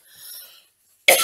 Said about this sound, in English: I've got a cough and I can't get rid of it.